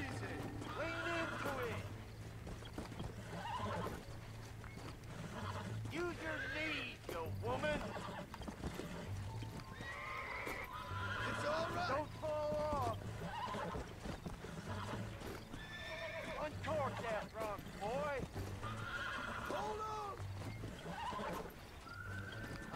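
Horse whinnies and neighs repeatedly over steady hoof clip-clop in Red Dead Redemption, the rising and falling calls loud and close, with someone talking over the game sounds.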